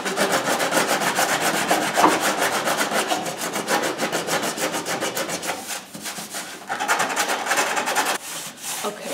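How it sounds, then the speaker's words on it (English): Steady rasping sanding on a fiberglass Rocket Bunny wide-body front bumper, continuous rhythmic strokes close by, briefly easing off near the end before resuming. "Oh yeah, sand that down."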